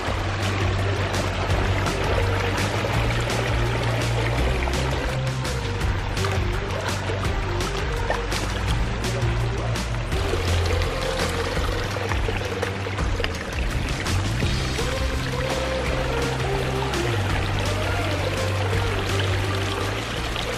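A backyard garden pond's roughly 15-foot stream and waterfall pours and splashes steadily, a close, continuous rushing of water with no talk.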